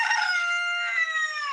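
A rooster crows one long, loud cock-a-doodle-doo near the listener, harmonic and sustained with a slight falling tail, with chickens kept as backyard birds.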